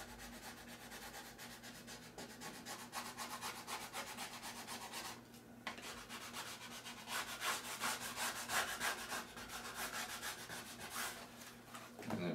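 A squeegee rubbed over an insignia decal on an RC aircraft, quiet repeated scraping strokes in an irregular rhythm with a low steady hum beneath.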